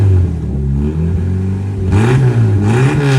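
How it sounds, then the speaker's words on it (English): Jeep Wrangler engine with no muffler revving, a loud raw low exhaust rumble that dips then swells in two throttle blips, close and alone. "I can't pass up a rev with no muffler"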